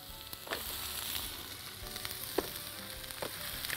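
Shrimp sizzling on a hot oiled grill, a steady close crackling hiss with a few brief louder pops, no voices.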